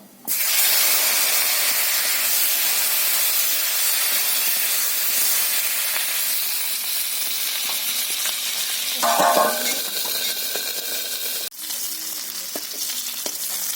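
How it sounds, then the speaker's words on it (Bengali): Capsicum fries in hot oil in a pan with a loud, continuous sizzle and hiss, and a brief clatter as the pieces are stirred partway through. "ক্যাপসিকাম ক্যাপসিকামগুলো ভেজে নেব"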